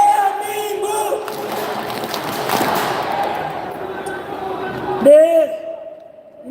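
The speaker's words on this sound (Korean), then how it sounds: "너무나 함성 소리, 대한민국을 외치는 소리가 듣기 좋고 힘이 납니다만은" A large crowd at a rally in Gwangju roars a loud chant of "Daehan Minguk", the massed voices swelling and then giving way to a close voice speaking over the fading crowd.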